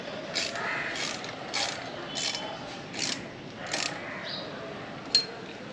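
A hand wrench ratchets in short bursts of clicking while tightening a bolt on a split grab rail of a Kawasaki Ninja 300. Six or seven close, evenly spaced bursts play in a quiet room, ending with a single sharp click.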